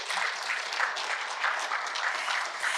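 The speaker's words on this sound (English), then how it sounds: "Clap, clap, clap." An audience applauds, a dense steady wash of many hands clapping that holds evenly for a few seconds with no talk over it.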